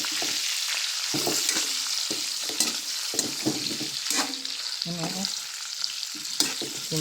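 Smoked meat fries and crackles in a pan while it is stirred, a steady sizzle broken by repeated scraping stirs and sharp pops, close and alone with no talk.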